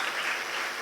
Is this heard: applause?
yes